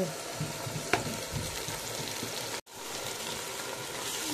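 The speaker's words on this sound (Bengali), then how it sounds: "এখন আমি দিয়ে দেবো ম্যারিনেট করা মাংস" Marinated meat frying in onion-flavoured oil in a pan, a steady close sizzle and crackle with a brief stir or clink near the start and a momentary dropout partway through.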